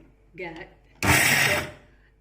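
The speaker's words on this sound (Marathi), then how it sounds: "आपल्याकडे खलबत्ता नाही, त्यामुळे आपण मिक्सरलाच वाटून घेऊया" A voice speaks briefly, then a mixer grinder grinding peanut chutney whirs loudly for about half a second before winding down.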